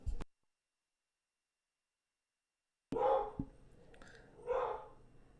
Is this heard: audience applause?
no